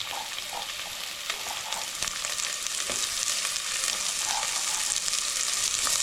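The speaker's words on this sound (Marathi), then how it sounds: "कांदा, लसूण आणि कोथिंबीर, कढीपत्त्याची फोडणी" Onion, garlic, coriander and curry leaves crackle and sizzle in hot oil in a heated pot for a crab curry, a steady dense frying hiss with occasional sharper pops and stirring scrapes, close and continuous with no talk.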